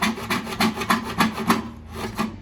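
A handsaw cuts wood for a bağlama with about eight quick, rhythmic rasping strokes up close, fading as the cut ends.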